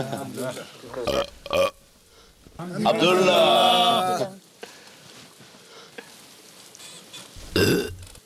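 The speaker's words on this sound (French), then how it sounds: "il faut que tu rotes, c'est la tradition" Someone gives a long, loud, drawn-out burp at a meal in Morocco, and shorter burps follow, with speech and laughter around them.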